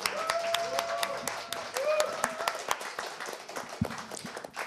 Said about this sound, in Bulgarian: Аплодисменти пак.